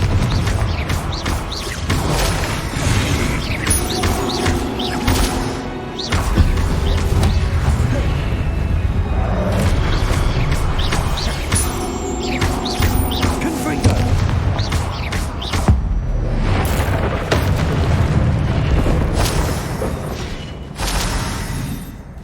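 Repeated Confringo blasting-spell explosions boom through combat in Hogwarts Legacy, loud heavy blasts and crashes layered over game effects with voices mixed in.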